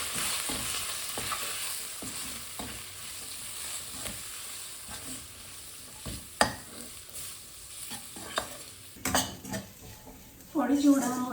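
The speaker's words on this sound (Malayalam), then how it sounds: "ഇനി ഇതിലേക്ക് പൊടി ഇട്ടിട്ട് മൂപ്പിച്ചെടുക്കാം." Spice powder roasting in a pan for a clam fry, a soft steady sizzle under repeated scraping strokes of a spoon against the pan, with a few louder clanks near the end.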